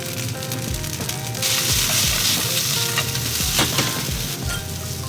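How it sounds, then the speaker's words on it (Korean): Zucchini slices frying in an oiled stainless steel pan, a steady close sizzle with scraping and stirring clatter throughout, growing a little louder partway through. "먼저 애호박부터 노릇노릇하게 구워주시고"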